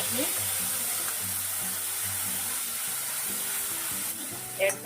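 Asafoetida tempering in hot oil for paneer makhani, a constant sizzling hiss with some clatter and a brief louder stir near the end, under a low background hum.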